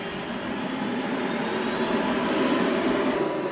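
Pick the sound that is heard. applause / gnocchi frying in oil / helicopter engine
helicopter engine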